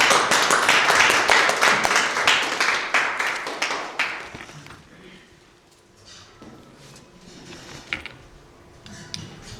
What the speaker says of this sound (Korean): 우리 박수로서 환영하면 좋겠습니다